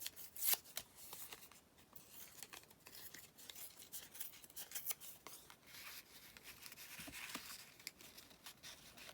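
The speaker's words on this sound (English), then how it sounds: "Let me just tear this down fractionally." Paper is torn for a match book craft project, producing faint, quiet ripping and rustling in short irregular bursts close by, with no talking.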